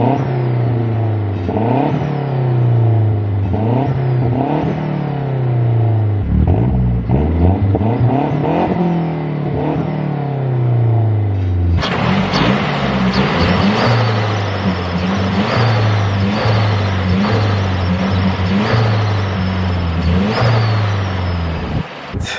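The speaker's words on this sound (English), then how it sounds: "we're gonna do a few revs with this car and just see how it sounds overall" Mazdaspeed 3 with new bolt-on upgrades revving repeatedly, each rev rising and falling close by, then holding a louder, rougher sustained high-rpm roar for the final ten seconds.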